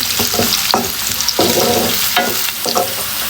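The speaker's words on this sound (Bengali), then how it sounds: "এখন এটাকে নেড়ে চেড়ে একদম ব্রাউন কালার করে ভেজে নেব" Khichuri ingredients being stirred and fried on low-medium heat until brown: loud, close sizzling with repeated spatula scrapes and knocks against the pot in an uneven rhythm, no voices.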